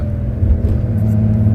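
A Porsche 911 with no muffler idles close by in a loud, steady, deep rumble, its exhaust droning evenly throughout.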